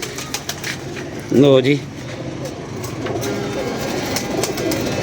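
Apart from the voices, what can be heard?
pigeon cooing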